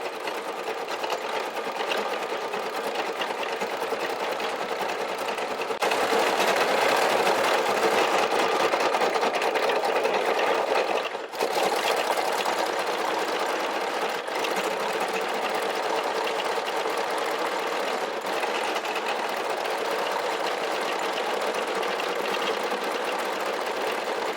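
A Brother SE1900 embroidery machine with a magnetic hoop stitches a flower design, a steady, fast mechanical whir and needle patter running continuously at a close, even level, briefly louder midway, with no talking.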